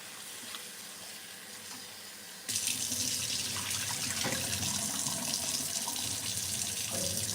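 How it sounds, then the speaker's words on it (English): Tap water comes on suddenly after a quiet start and runs steadily while potatoes are rinsed of starch in a sink, with faint splashing and handling underneath. "I always have to rinse the starch off. Rinse, wash the potatoes."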